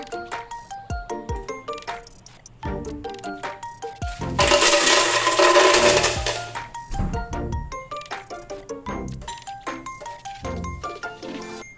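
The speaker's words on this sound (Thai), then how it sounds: "เสร็จแล้วเราก็จะนำส่วนผสมมาปั่นนะคะ" A blender whirs in a loud, steady burst of about two seconds while blending blue sky smoothie ingredients with a milk mix, surrounded by light clinks and taps and soft background music.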